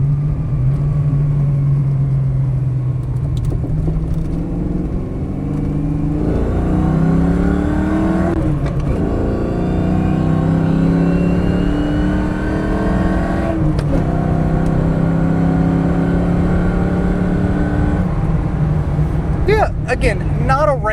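A 1993 Ford Mustang LX 5.0 with a five-speed manual revs up and down while driving, rising and falling in pitch with throaty bursts, loud and close, with a voice talking over it.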